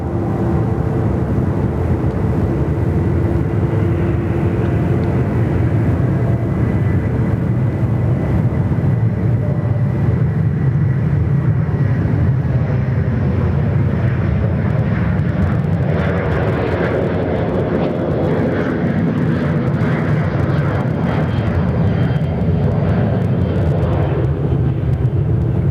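Rex Airlines plane taking off from the runway at Sydney Airport, a steady broad engine roar heard from a distance that holds throughout and slowly shifts in tone.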